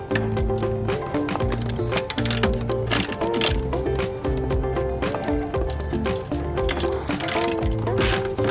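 A ratchet clicks in repeated bursts while backing out 17mm bolts on the transmission motor mount of a Mazdaspeed 3, up close and steady with brief pauses between runs.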